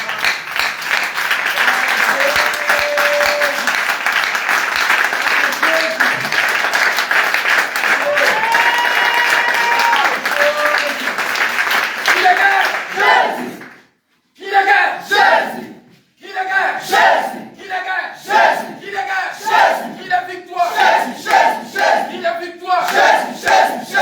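A church congregation at a worship service in Angré cheers and shouts loudly in a dense, sustained roar. After a brief pause, rhythmic bursts of applause and clapping follow.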